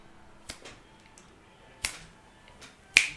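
Three crisp finger snaps, sharp and close, spaced over a few seconds, with faint softer clicks trailing after each one against a quiet background.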